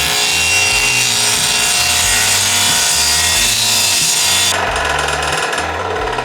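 Table saw cutting bevels across the ends of a wooden board guided by a homemade cross-cut jig; a loud, sustained blade whine with the pitch shifting as the cut finishes and the blade runs on freely.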